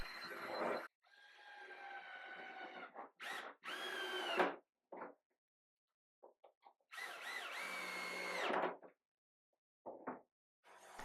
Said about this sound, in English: I'm just going to drill and countersink some holes and then it can be attached to the push stick